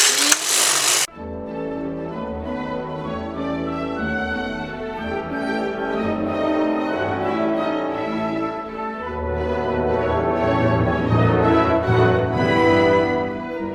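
A Silver Reed LK150 knitting machine carriage runs steadily across rows, giving a continuous mechanical whir and clatter close by after a brief sharp noise at the start, with no talk.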